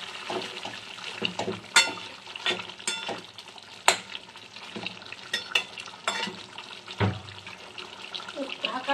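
Spice masala for chicken fries in a pan while it is stirred, with steady close sizzling and repeated scraping clinks of a spoon, loud and continuous throughout.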